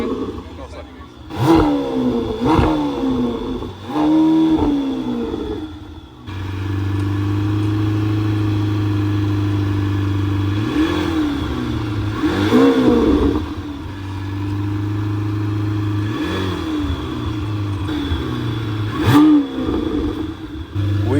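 A 906-hp 2025 Lamborghini Temerario revs repeatedly, sharp roaring blips that rise and fall between a steady loud idle drone, with people talking nearby at the start.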